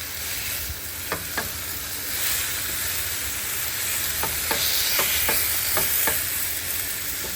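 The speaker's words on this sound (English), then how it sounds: "So I've just got meat and Italian seasoning cooking up" Meat with Italian seasoning sizzles steadily in a hot pan, and a utensil scrapes and stirs through it in sharp, repeated strokes that rise above the constant frying hiss.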